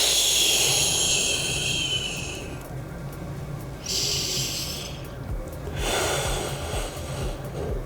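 Deep, slow breaths during a stretching exercise, long airy inhales and exhales that swell and fade in three waves, close and fairly loud with no talking.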